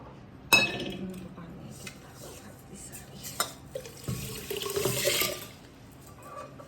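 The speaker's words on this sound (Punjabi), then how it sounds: "ਥੋੜਾ ਹੋਰ ਪਾਣੀ ਪਾ ਦੇ" Water is poured for moong dal cooking in a pot on a village clay hearth, with scattered clinks of utensils and a louder rushing pour near the end.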